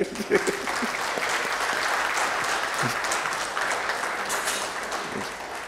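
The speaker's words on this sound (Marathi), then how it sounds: "भगीरथ कुलकर्णी सरांसाठी आपण जोरात टाळ्या वाजवायला पाहिजे" An audience at a 50th birthday felicitation event in Maharashtra applauds Bhagirath Kulkarni with sustained, dense clapping from many hands, loud and steady for several seconds, with a few faint voices underneath.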